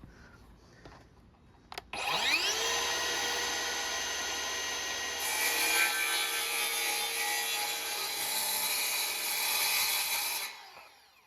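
A power saw spins up and cuts through a luxury vinyl plank floor board in one long, loud, steady pass of about eight seconds, then winds down, with no talk.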